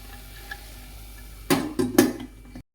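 A metal lid is set onto a cooking pot of ridge gourd and chana dal curry, giving a few quick close clanks near the end after a quiet kitchen background.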